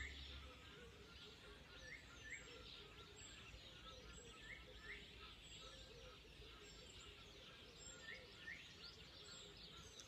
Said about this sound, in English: I think there's a message here from all these amazing birds.